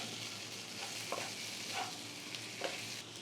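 Chicken frying with tomato and green chillies in a pan: a soft, continuous sizzle with a few gentle stirring strokes, fairly quiet.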